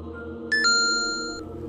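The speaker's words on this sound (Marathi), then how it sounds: "तेव्हाच त्याचा मेसेज टोन वाजला" A phone's message notification tone, a short bright electronic chime of two quick notes that hold briefly and stop, heard alone over a low background hum.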